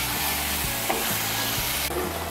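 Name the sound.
spice paste with chopped tomato sautéing in a pan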